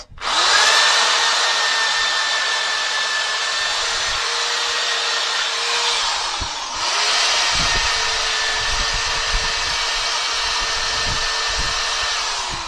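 A power tool grinds steadily against a rusty motorcycle frame, stripping it back toward bare metal, with a continuous loud whine that briefly dips near the middle before resuming.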